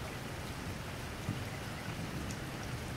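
Heavy rain falls at night in a steady, dense wash of hiss, fairly faint and unbroken, with one or two soft thumps and no voices.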